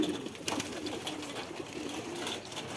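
Pigeons in a loft coo softly, several low murmuring calls overlapping, quiet and steady, with no voices.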